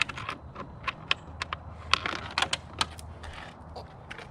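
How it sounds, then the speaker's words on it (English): Screws being worked loose from a dashboard plate on a 2013 Can-Am Spyder RT Limited, a close run of small sharp metallic clicks and ticks in an irregular rhythm, with no voices. "we're just going to remove this plate from this dashboard plate, which is only 4 screws"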